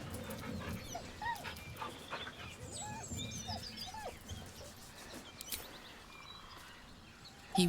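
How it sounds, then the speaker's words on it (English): A dog whines and whimpers beside a corpse in the fantasy role-playing game Baldur's Gate 3, a series of soft, high, mournful cries with panting over quiet ambience. "He whines, but remains rooted by the corpse's side."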